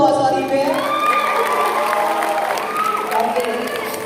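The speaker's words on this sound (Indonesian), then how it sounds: "Tunggu dulu, tepuk tangan dulu tuh Waswari Be." Audience applause and cheering at a dance performance finale, loud and sustained for several seconds with whoops and shouts over the crowd.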